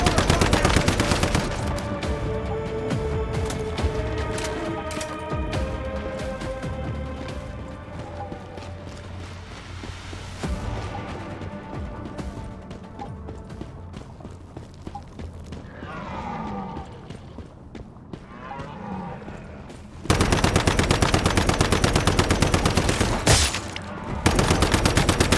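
In the video game Once Human, gunfire rattles at the player in bursts of rapid shots mixed with mechanical clanks, then a loud dense barrage erupts near the end.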